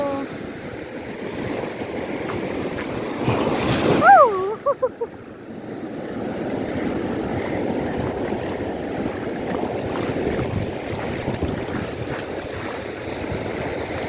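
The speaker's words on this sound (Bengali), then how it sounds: "বড় বড় ঢেউ বড় বড় ঢেউ এসছে" Heavy Arabian Sea surf roars steadily with wind buffeting the microphone; a brief sliding voice-like cry rises midway before the waves' rumble continues.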